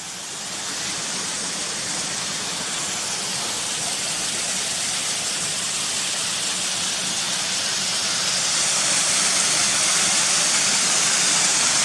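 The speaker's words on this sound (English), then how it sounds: "It's waterfall after waterfall after waterfall, all in the same place" Several waterfalls at Ashgill and Cotterforce pour in one place, giving a steady, loud broadband rush of falling water that swells slightly near the end, with no voices.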